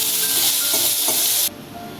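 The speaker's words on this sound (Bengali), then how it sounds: "আলুটা লাল করে ভেজে তুলে রাখছি" Potatoes sizzle and hiss steadily as they fry in oil, a bright continuous crackle that drops suddenly to a quieter simmer near the end.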